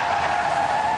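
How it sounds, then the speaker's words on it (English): A car brakes hard and skids on a slippery surface near an M4 slip road during a police pursuit, a sustained loud tire squeal holding steady for about a second with no talk. "the driver panicked, slammed on his brakes and skidded on the slippery surface"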